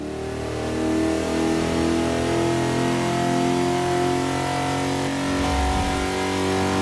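Holden Torana A9X engine in the racing game Forza 6, a big old-fashioned grunt held at a loud, sustained rev with a thick, buzzing tone and slight swells, heard alone without speech.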